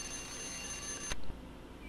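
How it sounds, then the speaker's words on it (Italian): An alarm clock rings in the Sega Dreamcast game Shenmue, a bright, continuous bell-like ring that stops abruptly about a second in, leaving a quiet room tone. "Ok, la sveglia è suonata"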